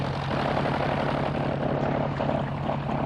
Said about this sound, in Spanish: los aviones de la Armada se lanzaban desde pasarelas